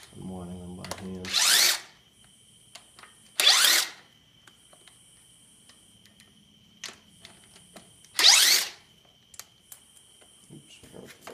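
A power tool spins bolts out during disassembly for a rear main seal replacement on an IH 240 tractor, with three short, loud whirring bursts separated by quiet stretches and light clicks. A brief voice is heard at the start.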